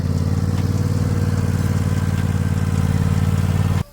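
A small lawnmower engine runs close by with a steady, pulsing putter, then cuts off abruptly near the end.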